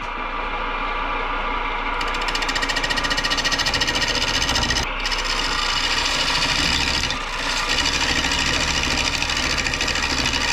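A three-quarter bowl gouge cuts a black walnut bowl spinning on a lathe, a loud continuous rasping scrape over the steady machine hum, briefly lifting off the wood twice.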